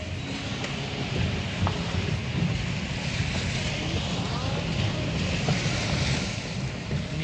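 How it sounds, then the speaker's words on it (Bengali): Water from a snow-fed mountain waterfall in Spiti Valley pours onto a road, a close, steady broadband rush that holds at an even level throughout, mixed with wind buffeting. "কত জল আসছে এই ঝর্ণাটা থেকে,"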